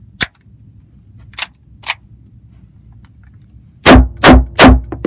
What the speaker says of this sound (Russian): Отличная стрельба.